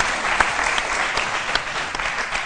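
A TV studio audience applauds on the Ivorian midday show C' Midi, with steady, dense clapping at a moderate level that runs unbroken from start to finish.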